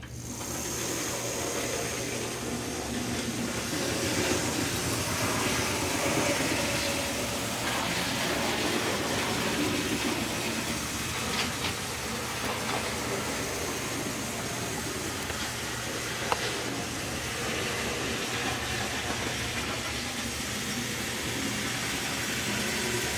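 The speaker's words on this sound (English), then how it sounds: "now it's running without traction tires with the bullfrog snot, and it's working very" A model locomotive fitted with liquid traction tyres runs steadily on its track, a continuous mechanical whir and rumble that holds at an even level throughout, close by with no talking.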